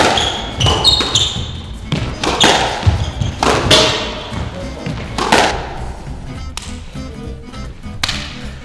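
A squash ball is struck again and again during a full-court training rally, with sharp smacks and thuds off racket and walls at an irregular, quick pace that echoes in the court.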